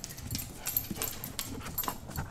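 Golden doodle puppy, nine months old, making soft, scattered whimpering and panting sounds with light shuffling, fairly close and not very loud.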